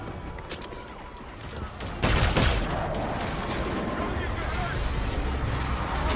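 Rapid gunfire in the video game Call of Duty: Infinite Warfare, with dense repeated shots through the whole stretch and a louder, heavier burst partway in that keeps up a steady crackling barrage.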